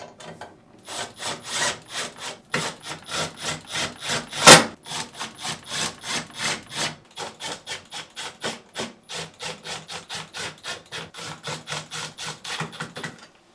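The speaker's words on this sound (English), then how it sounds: "Reinstall the screws." Screws are driven back into a GE refrigerator freezer drawer with a ratcheting hand tool, a rapid, steady series of close rasping clicks repeating for over ten seconds, with one louder knock partway through.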